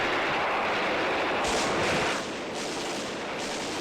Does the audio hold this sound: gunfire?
yes